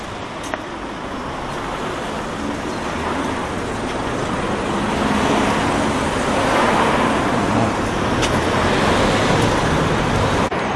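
Constant traffic noise of cars moving through Chesterfield town centre, a broad steady rush that swells slightly midway, with a few faint clicks and no voices.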